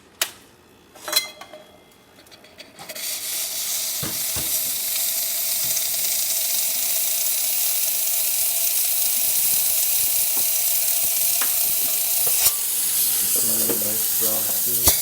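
A Quickmill Silvano espresso machine's steam wand after a full tune-up, starting with a few clicks and knocks before a loud, steady hiss of steam rushes out and holds, with a gurgle near the end.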